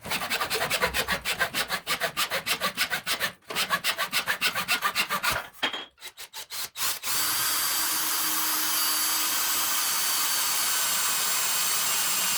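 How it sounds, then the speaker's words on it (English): A handsaw cuts through a small piece of wooden dowel in quick, steady rasping strokes, close and loud, then slows to a few final strokes before the piece drops free and a constant background hiss remains. "And then the dowel I'm just going to cut, like I said, a little piece"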